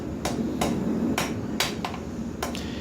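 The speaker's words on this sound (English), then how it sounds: "I'll hang the bar over the end of the anvil and kind of fight that a little bit by tapping on it" Hammer tapping a hot steel knife bar hung over the end of an anvil during forging: a series of close, sharp metallic strikes at an uneven pace, with roughly half a second between blows, over a low background hum.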